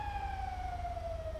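Fire truck siren in GTA 5, a steady wailing tone with strong harmonics sliding slowly downward over low rumbling traffic noise, continuous and fairly loud throughout.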